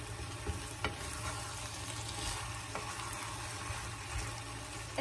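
Potatoes with squid, corn and soy sauce simmer in an uncovered pan, giving a steady soft sizzle and bubbling with a few light stirring scrapes, close and continuous with no talking.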